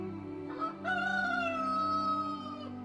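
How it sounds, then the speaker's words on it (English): A rooster crows once in a long, drawn-out cock-a-doodle-doo over a low, steady background hum, moderately close and clear. "immediately a rooster crowed"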